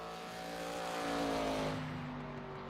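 Race car engine in the iRacing simulation during an ARCA stock car race, a steady, droning roar with a slowly shifting pitch, fairly faint and with no voices.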